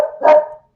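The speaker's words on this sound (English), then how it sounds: "You got the yipper back? Are you dog sitting again?" A small dog gives two sharp yippy barks close by, the second louder and more drawn out, with no talking over it.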